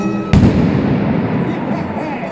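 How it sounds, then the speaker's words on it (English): A single loud, sharp bang from an oxygen chemistry explosion demonstration at a live stage show, followed by a lingering rumble and crowd noise. "A fantastic bang there!"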